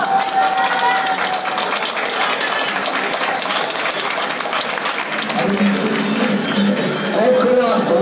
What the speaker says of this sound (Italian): un grande applauso a Loredana